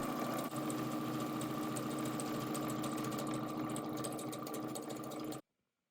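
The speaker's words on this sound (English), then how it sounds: "you're going to sew a pair of machine basting stitches within the 1/2 inch or 13 millimeter seam allowance" A sewing machine runs a long continuous line of basting stitches along a fabric ruffle, a steady fast mechanical whir with a brief hitch near the start, then stopping abruptly into silence.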